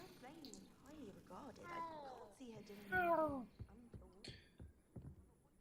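A cat meows several times in Hogwarts Legacy, the calls rising and bending in pitch, with the loudest one near the middle. Background game sounds continue beneath them.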